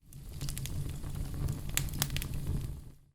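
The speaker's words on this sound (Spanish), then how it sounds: "hoguera" A bonfire crackles softly with irregular pops and snaps over a low, steady roar of flames.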